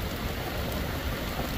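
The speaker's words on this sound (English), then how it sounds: "it is raining really, really hard" Very heavy rain pouring down on a farm in southwest Arkansas in early June, a dense, loud and steady hiss of drops with no breaks, no other sounds and no voices.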